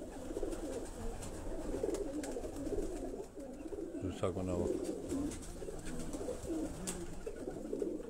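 High-flying pigeons coo in soft, low, rolling calls close by, with a voice speaking briefly over them.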